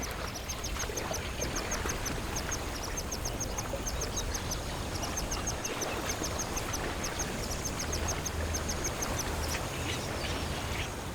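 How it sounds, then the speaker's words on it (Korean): A family of 24 spot-billed ducks on a wetland gives steady, overlapping quacks, constant and fairly close, within a dense, hissing wash of background noise. "흰뺨 검둥오리는 24마리의 대식구를 이루었다."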